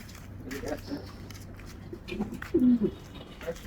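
Racing pigeons coo softly in low, throaty bursts while being packed into a toss box for a training release, with one louder close coo near the end and voices talking in the background.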